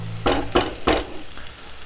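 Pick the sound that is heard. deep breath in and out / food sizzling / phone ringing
food sizzling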